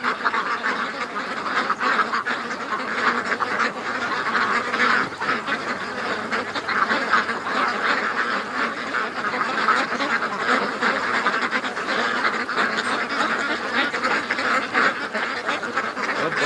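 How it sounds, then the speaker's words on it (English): A flock of ducks quacks continuously on the way to a lake, a busy, overlapping chorus of nearby calls that never lets up. "Happy ducks going to the lake."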